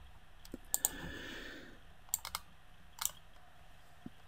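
Faint, sparse mouse clicks during work in CAD software on a Stirling engine drawing come singly and in small pairs against a quiet room hush.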